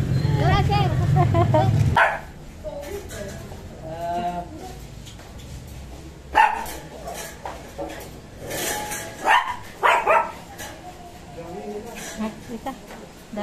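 Dogs bark in short bursts at a distance, yips and woofs scattered among people talking nearby at a fiesta in Pampanga.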